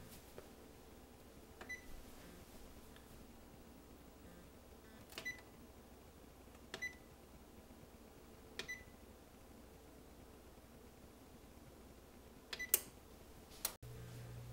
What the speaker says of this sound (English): we're going to put the oven on 350